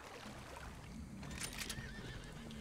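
A horse neighs in the Red Dead Online video game, a brief whinny rising over low, steady background rumble with faint clip-clop, moderately close and without talk.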